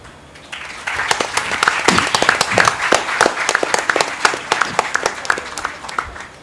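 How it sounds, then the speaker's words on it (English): An audience at a regional quiz final applauds the runner-up, a steady, lively round of many hands clapping with sharp individual claps standing out, building after a quiet start and continuing throughout. "It's the first time I've seen a runner-up get a better applause than a winner."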